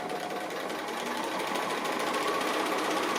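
A sewing machine stitches fabric appliqué with grey thread, a steady continuous mechanical whirr at close range, even in level throughout with no pauses.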